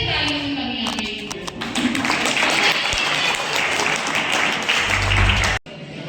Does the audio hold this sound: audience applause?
yes